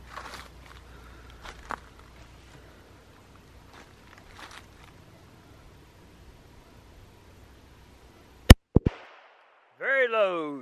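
A Hi-Point .45 pistol, the black brick, fires at a target range: one sharp loud report and two quicker quieter cracks close together, after rustling and footsteps, followed by a burst of voices.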